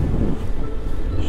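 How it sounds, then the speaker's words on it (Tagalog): Strong gusts buffet the microphone at a Pacific Ocean view deck in Dingalan, a steady broadband roar with low rumbling throughout, loud and close, with no clear voices. "Napakalakas ng hangin."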